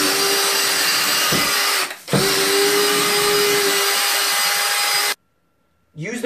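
A cordless drill spinning a corner and edge scrub brush against bathroom tile, a loud steady whir broken by a brief dip near two seconds, then cutting off abruptly before restarting at the very end.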